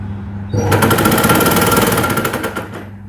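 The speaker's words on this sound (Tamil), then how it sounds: "இந்த துணியை வச்சு 1/4 இன்ச்சில் தைச்சிட்டே வரேன்" A sewing machine stitches fabric while hemming a blouse neckline, starting abruptly and running as a loud, steady, fast mechanical chatter of needle strokes close by, then easing slightly at the end.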